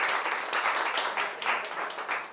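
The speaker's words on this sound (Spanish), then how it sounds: "Regalen un aplauso" An audience at a literary talk gives brief, dense applause, with many hands clapping steadily at moderate loudness throughout.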